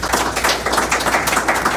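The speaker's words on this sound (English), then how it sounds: "round of applause for our panel" A conference-room audience claps for a real estate panel, a dense, continuous patter of many hands at a fairly close, steady level throughout.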